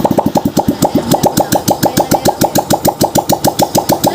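A Vega Fi 115cc motorcycle engine runs with no exhaust fitted, giving a loud, raw, rapid and steady train of sharp firing pops close by, with no talk over it.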